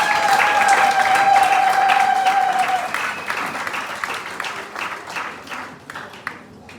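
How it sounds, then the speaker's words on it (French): An audience at a 20th wedding anniversary celebration in Benin applauds loudly and steadily, the clapping thinning and fading toward the end, with a faint tonal hum and some voices underneath. "Ça mérite les acclamations, s'il vous plaît."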